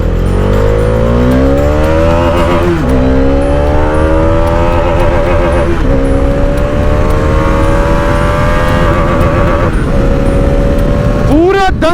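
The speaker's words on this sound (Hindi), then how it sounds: "पूरा दम छोड़ दिया बाइक ना, पूरा खींच के फिर मैं अगला गियर डालता हूँ।" A motorcycle engine revs hard through the range, climbing steadily in pitch, then dips sharply at each gear change before pulling up again, loud and close with several shifts in a row.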